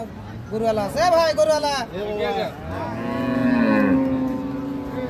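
A dairy cow at a cattle market moos loudly in several long, drawn-out calls close by, with crowd babble and voices around it.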